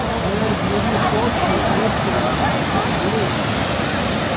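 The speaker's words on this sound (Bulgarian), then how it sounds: "Метров водопад." A waterfall roars in a constant, loud, dense rush of falling water, unbroken throughout and close by.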